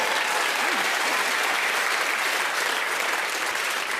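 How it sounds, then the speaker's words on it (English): A studio audience at a panel game recording breaks into steady, full applause, a dense continuous clatter of many hands at moderate distance lasting throughout without pause. "the audience also applaud them"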